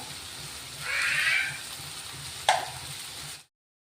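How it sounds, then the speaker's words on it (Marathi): Marinated shrimp with homemade masala drop into a hot pan, giving a short burst of sizzling frying followed by a sharp hiss, close and moderately loud, then cutting to silence. "ही कोळंबी टाकून घेतोय आपण."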